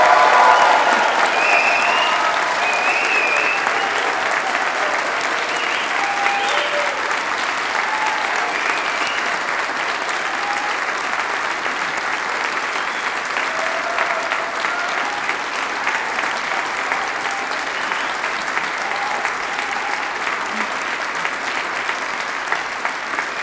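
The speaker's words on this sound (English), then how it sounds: "Can I get you to applaud this amazing collection of graduates," A large university graduation audience applauds the graduates with sustained, dense clapping that holds at an even level for over twenty seconds, loud and close throughout.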